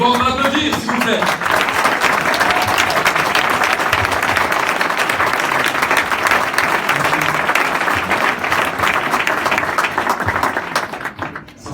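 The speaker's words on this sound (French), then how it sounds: "Bon, on va applaudir, s'il vous plaît." A conference audience gives a long, sustained round of applause that stays full and even for about ten seconds before tapering at the end, with some voices faintly mixed into the clapping.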